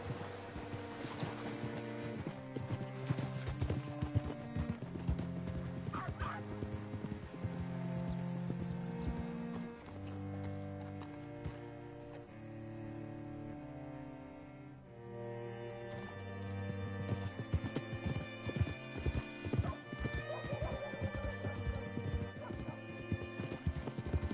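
A horse's hooves clip-clop steadily on the ground in the Red Dead Redemption 2 video game, a continuous rhythmic trot under game music with a faint whinny partway through.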